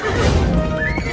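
A horse whinnies loudly and close by, a single drawn-out neigh with a rising then falling pitch, set against some background noise and no talk.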